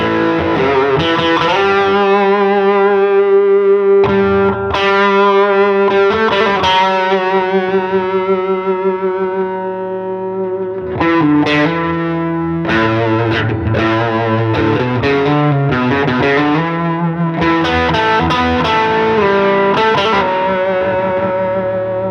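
Heavily distorted electric guitar plays sustained chords and riffs, thick and saturated with a brief pause midway, loud and alone.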